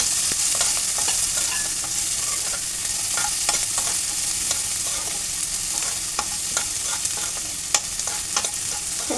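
Finely chopped onion fries in a pan with green chilli while a spoon stirs it, a steady sizzle broken by scraping stirring strokes and occasional sharper clicks, close and continuous, with no talking.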